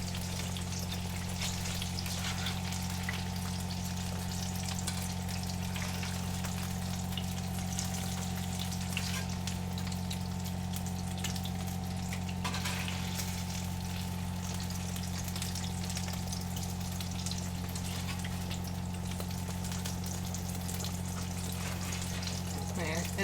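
Food sizzles in oil in a non-stick pan with a steady, crackling fry. A strong mains-like hum runs beneath it, and a few faint clicks of a utensil come through.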